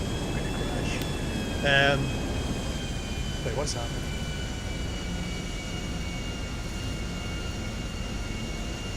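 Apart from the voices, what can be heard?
airplane engine in the video game GTA V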